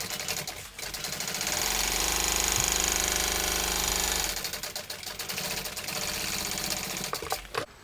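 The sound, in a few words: sewing machine stitching a second row on a tote bag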